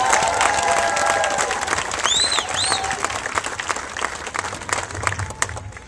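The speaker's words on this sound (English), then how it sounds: "Let's give all of them a round of applause." An audience at a Sacramento civic launch event breaks into sustained applause and scattered cheering, a dense wash of clapping with a couple of whistles rising above it, tapering slightly toward the end.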